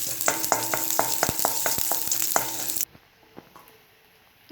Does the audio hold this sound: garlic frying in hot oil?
yes